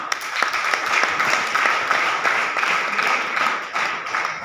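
Steady applause from an audience at a motivational speech event, many hands clapping in a continuous, fairly close patter with distinct individual claps popping through, moderately loud and unbroken.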